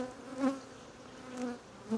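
Honeybees buzzing around an open hive during a frame inspection, a steady close drone with two swelling passes as bees fly near.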